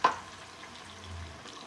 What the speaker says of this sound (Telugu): వేసేసుకొని కొద్దిగా వాటర్ పోసేసుకొని దాంట్లో తిప్పి పోసేసుకున్నాం.